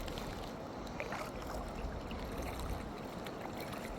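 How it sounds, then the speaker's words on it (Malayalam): A kayak paddles along the river at Dawki, Meghalaya, with soft continuous trickling and lapping water close by, fairly quiet and without voices. "ദൗക്കിയിൽ കയാക്കിങ് ചെയ്തുകൊണ്ടിരിക്കുകയാണ്"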